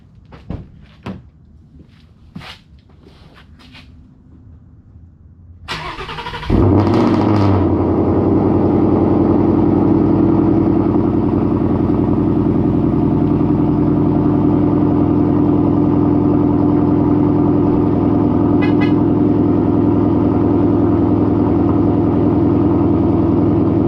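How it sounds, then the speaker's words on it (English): A 2018–2021 Ford Mustang GT with its mufflers deleted cold-starts loud and close at dawn. A few clicks and clunks come first, then the engine catches with a burst and settles into a steady, rumbling high idle. "I'm gonna do a cold start after doing the muffler delete"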